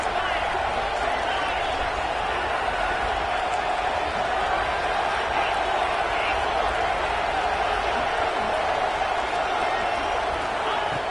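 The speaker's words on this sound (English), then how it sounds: "here comes the crowd noise" Stadium crowd noise during a football two-point conversion attempt for a possible win, a dense continuous roar from a large crowd, loud and unbroken throughout.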